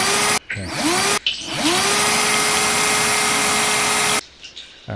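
A power drill whines steadily into a mannequin, close and loud, with two brief stops and restarts before winding down into quieter handling noise.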